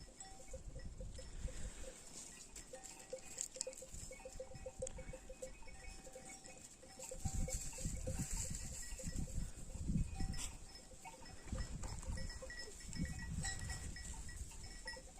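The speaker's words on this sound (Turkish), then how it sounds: "Koyunlar da hareketlendi." A flock of sheep shuffling about outdoors on a village mountainside, with bells clinking and jangling steadily over a low, continuous rustle of movement.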